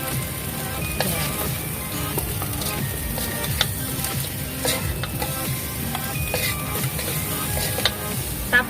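Shrimp sizzle and spatter in a hot wok during a sauté for ginataang hipon with malunggay and kalabasa, a steady close crackle with scattered sharper pops from start to finish.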